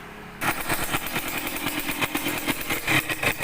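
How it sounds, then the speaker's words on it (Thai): A Yamaha DT100 two-stroke motorcycle engine fires up after a brief quiet moment and keeps running with a rough, rapid popping beat, loud and close. "เดี๋ยวมา ติดเครื่องดูใหม่อีกครั้งหนึ่งนะครับว่า จะเป็นยังไงนะครับ"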